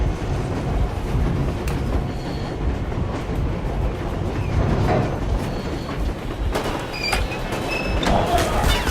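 A train with busted brakes slowing down in the Metro Exodus video game, heavy rumbling and rattling of wheels on rails with thumps and high metallic squeals toward the end, loud and continuous.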